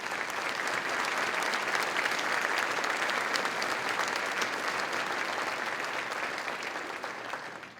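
An audience at the Akron Roundtable 2016 applauds the cabinet with steady, dense clapping that holds for several seconds and tapers slightly at the end.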